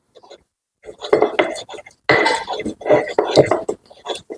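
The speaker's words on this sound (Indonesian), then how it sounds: "Jadi kita ulek sampai halus." Garlic ground with a mortar and pestle at home gives a series of irregular knocks and scraping grinds, close and fairly loud, in uneven bursts separated by short pauses.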